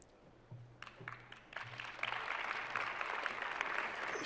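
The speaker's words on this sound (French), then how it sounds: "Je vous demande d'applaudir Madame Ndella Sarba" An audience at an award ceremony for a women-in-science prize breaks into applause, starting with a few scattered claps and building into steady, sustained clapping from a sizeable crowd.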